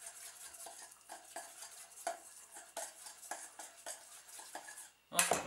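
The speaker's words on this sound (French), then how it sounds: "On va prendre une cuillère pour mélanger tout ça." A metal spoon mixes mustard sauce in a bowl for beef tartare, giving a quick run of light rhythmic clinks and scrapes, close and fairly quiet, ending in a sharper knock.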